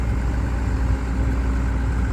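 A farm tractor's engine idles with a steady, loud, low chugging drone on a sheep farm at harvest time, close by and unbroken, with no voices over it.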